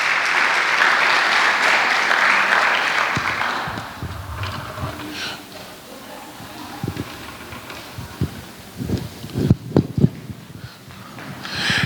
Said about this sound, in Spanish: dale un fuerte aplauso a Dios por la vida de nuestros hijos